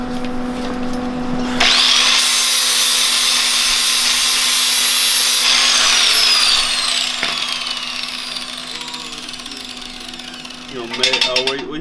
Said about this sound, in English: Go ahead and grind that one.